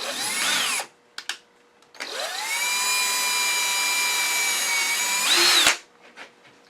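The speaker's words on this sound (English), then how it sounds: "Let me drill a small hole" A power drill bores a small hole in bubinga wood. A short whine is followed by a pause, then a long, steady high-pitched drilling run that winds down sharply.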